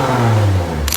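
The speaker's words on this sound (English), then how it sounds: "I already have Axleback exhaust system installed" A 2007 Lexus with an axle-back exhaust revs hard, a loud, steady engine drone that swells and rises in pitch, with a brief hiss at the end and no talking.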